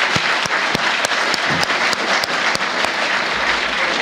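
Sustained applause from a large audience, dense steady clapping with a few sharper individual claps standing out, no talking.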